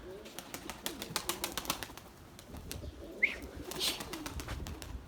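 A pigeon of the white Erzurum breed flies in with rapid, rhythmic wing claps and flapping, which fade into softer rustling and a couple of brief chirps nearby.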